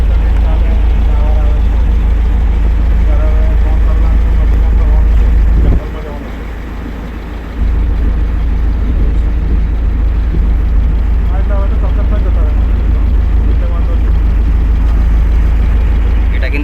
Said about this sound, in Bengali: সোনার বাংলা লজ থেকে আমরা বোটটা ছেড়ে সজনেখালির উদ্দেশ্যে রওনা দিয়েছি